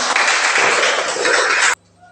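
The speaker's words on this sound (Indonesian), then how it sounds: "Berikan tepuk tangan" Students in a classroom break into dense, steady applause for their group's correct answers, close and loud for under two seconds before stopping abruptly.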